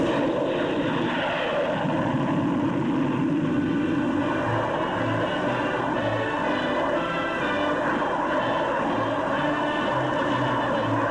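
The Silver Dart jet aircraft's engine runs with a loud, steady, close-up roar that holds evenly throughout, with no voices heard.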